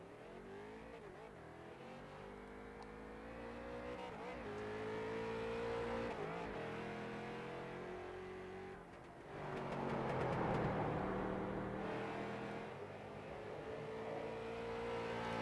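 Street stock race car at Southern National on a qualifying lap, its engine revving and rising in pitch through repeated gear changes as it accelerates, loud and fairly close throughout.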